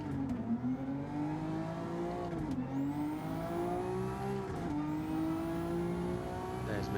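A Maserati MC20 race car on a soaking wet track in Gran Turismo 7 spins off the curbs on wet tyres. Its engine drones steadily and loudly, and the pitch climbs and dips several times as the revs rise and fall.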